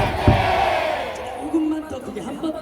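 A Korean baseball crowd at a Samsung vs KIA game, heard as a loud, dense roar of voices chanting and cheering together in a packed stadium, with amplified announcer-like talk over it.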